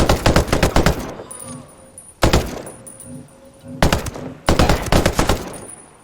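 Repeated bursts of rapid automatic gunfire in the tactical shooter video game Ghost Recon, loud and close, broken by short pauses with a faint high electronic tone between them.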